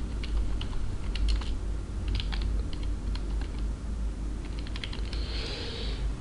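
Irregular key clicks ring out as someone types on a computer keyboard, close and fairly quiet, in short bursts over a low background hum.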